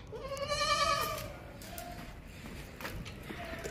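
A goat bleats twice in a wavering cry, close and fairly loud, with a quieter bleat later over faint background noise.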